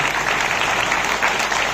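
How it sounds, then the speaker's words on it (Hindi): Audience at the first Indian temple in New Zealand breaks into loud, sustained applause, a dense even wash of many hands clapping close by with no pauses and no talking. "इसके लिए आप अपने लिए जोरदार ताली बजाइएगा।"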